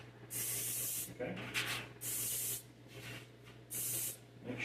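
Cooking spray blasted inside a bread ring in three separate hissing bursts, each about three-quarters of a second, close and loud, with quieter rubbing and handling noises between them.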